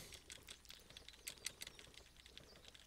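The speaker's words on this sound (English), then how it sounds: "Just like mashing my keyboard right now" Rapid, irregular clattering of keys being mashed on a computer keyboard, close and fairly quiet, a dense burst of clicks with no voices.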